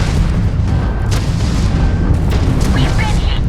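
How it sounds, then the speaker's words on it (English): A dense, sustained rumbling boom from a spaceship taking a hit in the space game Starfield, loud and continuous throughout with layered low roar and crackle, while a voice speaks over it. "We've been hit."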